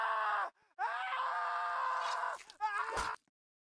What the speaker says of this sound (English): the screaming is terrifying